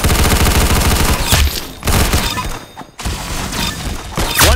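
Rapid gunfire from the Roblox shooter game Arsenal, loud and dense, bursting in several volleys separated by brief dips, with heavy thumping impacts layered through a busy game mix.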